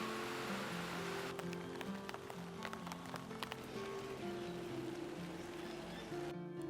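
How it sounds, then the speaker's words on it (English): Rain falls steadily on a suburban food-forest garden in Australia, a soft hiss scattered with distinct drips and taps on leaves, quiet and continuous, with a low hum underneath. "there's something really special about hearing the rain on the garden again"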